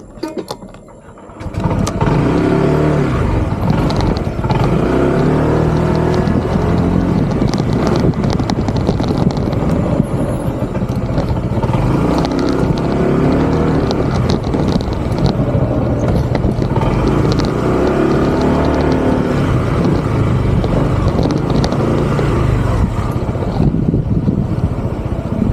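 A car pulls away with its engine revving. The rumble and road roar stay loud and continuous for over twenty seconds, mixed with heavy wind buffeting, as if recorded from a passing motorcycle. There is no talking.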